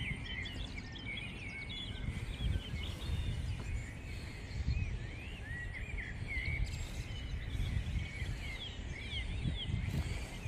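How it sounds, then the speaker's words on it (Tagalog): Birds call outside with repeated short chirps and tweets at a moderate distance, over a constant low rumble of background noise and faint insect-like buzzing. "Ang ingay na naman ng aking mga friendly ibon."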